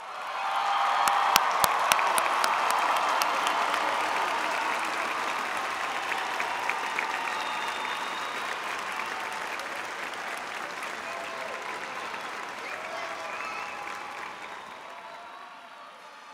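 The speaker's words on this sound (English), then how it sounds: "Let's give them one more big round of applause" A high school graduation crowd gives the class of 2023 a big round of applause, loud dense clapping with a few sharp claps early on, then slowly fading over about sixteen seconds.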